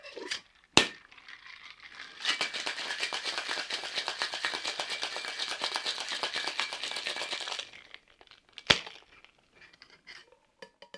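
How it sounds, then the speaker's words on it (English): Ice rattles hard inside a cocktail shaker for about five seconds of steady, dense shaking, framed by a couple of sharp knocks before and after. "Add some ice. And we'll give this a good shake."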